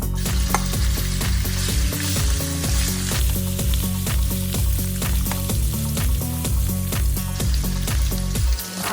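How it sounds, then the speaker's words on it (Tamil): Shrimp sizzle and crackle loudly in hot oil, a dense continuous frying sound with scattered pops throughout, no talking. "இப்போ எண்ணெய் நல்லா சூடு ஏறிட்டு இந்த இறாலை போட்டு பொரிச்செடுக்க போகிறேன்."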